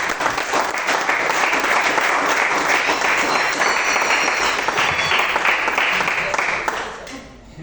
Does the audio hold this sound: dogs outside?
no